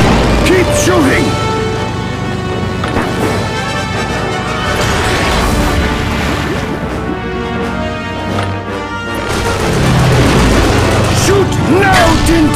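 Shooting and explosions in The Adventures of Tintin video game, with repeated booms and crashing impacts layered over dense, continuous game music and effects, loud throughout.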